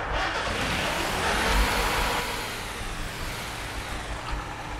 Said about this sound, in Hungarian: És így indítom be a motort.